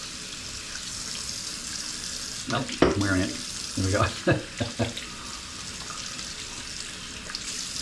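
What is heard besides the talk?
splashing cold water at a sink while shaving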